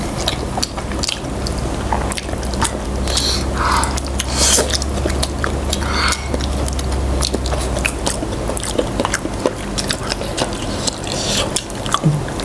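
Spicy chicken feet being eaten mukbang-style, close wet biting, chewing and slurping sounds repeating irregularly over a low background hum, with no talk.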